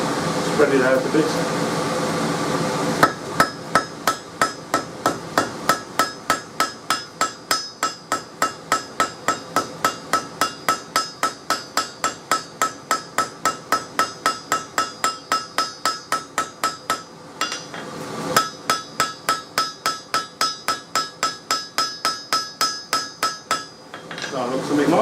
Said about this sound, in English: Crossbane hammer now to spread it out a bit.